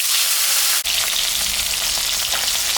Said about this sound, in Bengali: মাছটা এখন আমি ছাড়ে দেবো,